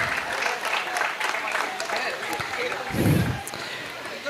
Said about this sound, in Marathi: जोरदार टाळ्या वाजवा एकदा आरिफ सरांसाठी.